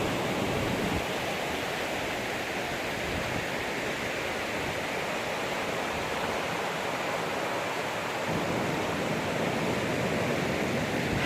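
A stream that has to be waded across on a hike toward a waterfall rushes steadily, a broad, even hiss of flowing water that swells slightly in the middle, with no voices.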